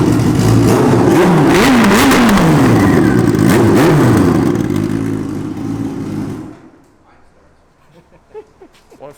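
Hayabusa motorcycle engine swapped into a golf cart, cranked with a jumper wire: loud, continuous engine and starter clatter with rising and falling revving tones for about six seconds, then cutting off abruptly into near silence with faint handling noises.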